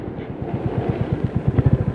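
A Royal Enfield Classic 350 from 2022 braking from 40 with the clutch in, its single-cylinder engine idling in a loud, steady low thump close by, the pulses quickening slightly near the end, with no talking.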